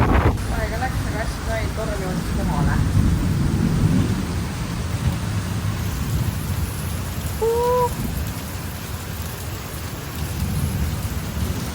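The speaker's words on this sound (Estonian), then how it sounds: "Päris korralik ja lihtsalt välgutab põhimõtteliselt kogu aeg ja müristab." A heavy thunderstorm during fruit-picking season in Australia: steady loud rain with low rumbling thunder throughout and a gust of wind, and a few brief voices early on.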